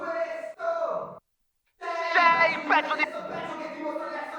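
Lead vocal run through a Pro Tools reverb and expander, two short sung phrases cut off sharply into silence, then a longer reverberant sung passage with the tail gated tight.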